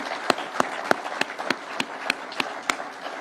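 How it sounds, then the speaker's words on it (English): Audience at a political rally in Kenya clapping in a slow, regular unison rhythm, about ten sharp claps roughly a third of a second apart over a low crowd murmur. "please let us clap for those great people."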